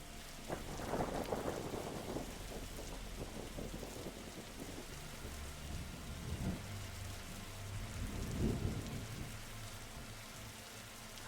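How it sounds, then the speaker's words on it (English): Steady rain and low rumbling thunder from a storm gathering over the library in The Darkside Detective game, a continuous wash of rainfall with deep rolls swelling near the start and again later. "He must have seen a strange storm gathering over it."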